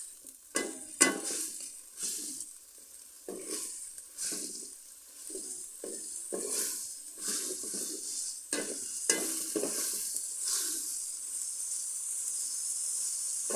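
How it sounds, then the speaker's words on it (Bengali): Ginger and garlic sautéing in a pan for khichuri, with repeated bursts of sizzling and scraping strokes of a spoon stirring at an uneven rhythm, close and moderately quiet, no talk. "আদা রসুন যত ভালো করে আগে কষানো যাবে তত গন্ধটা"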